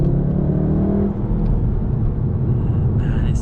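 A Volkswagen MK7 Golf R accelerates hard, its engine producing a loud, continuous low drone heard from inside the car, with a brief shift in tone partway through.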